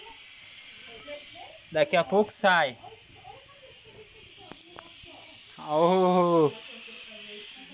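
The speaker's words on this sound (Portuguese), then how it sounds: "E o franguinho tá chiando aqui já, hein? O franguinho tá chiando." Chicken pieces sizzle while cooking outdoors at a country farm, a steady hiss running throughout, with a few short spoken phrases and an exclamation over it.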